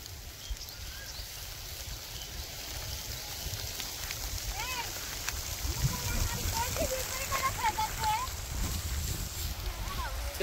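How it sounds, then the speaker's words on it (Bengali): Heavy rain pours steadily over a rural village, a constant soft hiss of falling water with faint voices underneath, growing slightly louder toward the end. "দেখেন কেমন বৃষ্টি নামছে"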